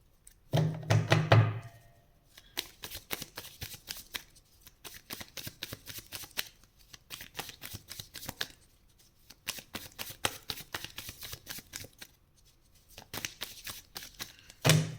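Tarot cards shuffled by hand in repeated bursts of riffling and soft slapping, close and clear, with short pauses between rounds and no talking.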